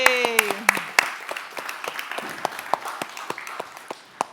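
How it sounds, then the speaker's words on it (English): An audience at a telecom industry conference claps as a panel walks on stage. The claps are sparse and distinct, with a voice over the start, and they thin out into scattered individual claps. "Big round of applause."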